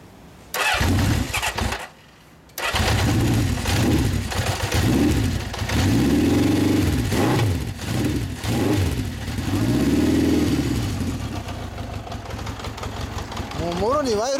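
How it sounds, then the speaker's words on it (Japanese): A 1974 Honda Dream CB750 Four K4 motorcycle engine cranks after a brief pause, catches and revs in repeated rising and falling swells, loud and close, with people talking nearby. "エンジン音聞かせてもらえますか"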